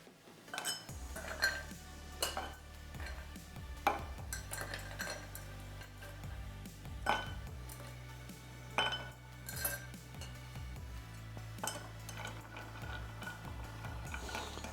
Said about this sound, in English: Add some ice. I'm going to stir this down.